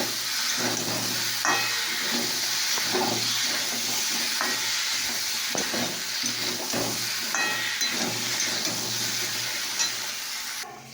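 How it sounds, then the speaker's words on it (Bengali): Water poured into a hot cooking pan sends up a continuous loud hiss of sizzling and steam. Occasional scraping stirs of a utensil sound through the noise, and no one speaks. "তো দেখো বন্ধুরা আমি জল ঢেলে দিয়েছি।"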